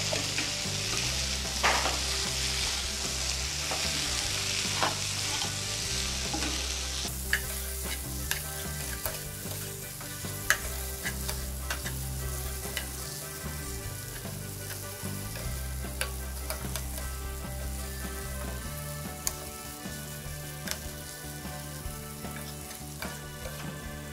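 Potato and cauliflower aloo gobi fries in a pan with tomato, dhaba style, giving a steady close sizzle broken by repeated scraping and clinking spoon strokes, with no voices.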